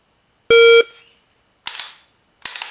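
A Mantis BlackbeardX dry-fire training setup with a shot timer: one sharp electronic start beep, then two crisp snaps from dry-fired shots spaced under a second apart, loud and close.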